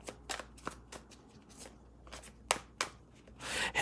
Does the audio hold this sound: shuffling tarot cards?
yes